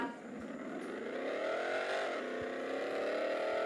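A car in the Roblox game Vehicle Legends drifts with a loud, steady engine drone whose pitch climbs and then holds as it revs through the slide, with no voices over it.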